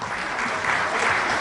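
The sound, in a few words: audience applause for jurors at award gala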